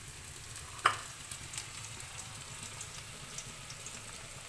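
Onion frying in a pan on a home stove, a soft steady sizzle running low throughout with one brief clink near the start, no one speaking.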